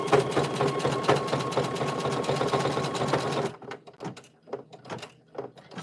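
An embroidery machine stitching a patch, rapid rhythmic needle clatter up close for about three seconds, then it stops and scattered clicks and handling knocks follow.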